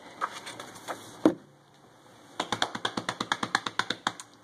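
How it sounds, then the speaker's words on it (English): A few scattered taps, then a quick run of rapid, evenly spaced light thumps like hands patting on a chest during a children's movement game, close and fairly soft. "I'm a gorilla. I can thump my chest."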